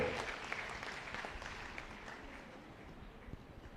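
Faint, distant applause from a church women's day gathering, a soft steady patter of many hands that fades slightly over a few seconds.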